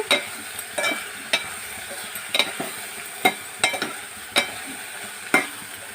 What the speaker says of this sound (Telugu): మిగిలిన ఉప్పు కారం పసుపు వేసుకుందాం వేసేసి చక్కగా కలుపుదాం